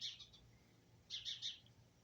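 Small birds give sharp, high chirping alarm calls around a lawn where a cat lies, two short bursts of calls at moderate distance with a quiet pause between.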